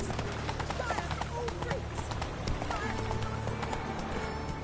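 Hooves of Geralt's horse Roach clip-clop at a steady gallop in The Witcher 3, rhythmic and fairly close, with occasional whinnies, under a voice speaking.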